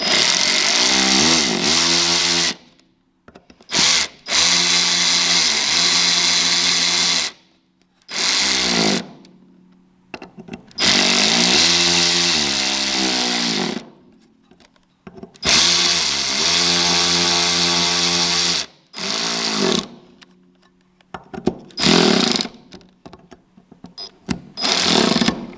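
A power tool drives the stator mounting bolts on a Can-Am. It whirs loudly in repeated bursts of a few seconds each, separated by short silent gaps.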